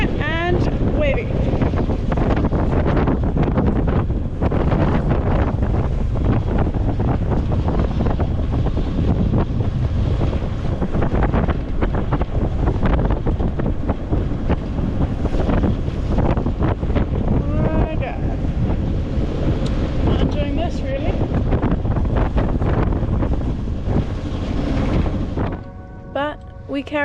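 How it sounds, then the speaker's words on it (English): Strong wind buffets the microphone in a constant roar while waves slap and churn around a sailboat off the west coast of Portugal, with faint bits of voice underneath. "It's very windy and wavy."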